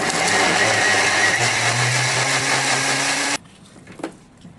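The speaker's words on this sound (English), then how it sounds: "Using 15 seconds of time, speed 10, to blend all." Thermomix TM6 blending chili crab sauce ingredients at speed 10, a loud, steady high-speed whirring roar that stops abruptly, followed by faint clatter in the quiet.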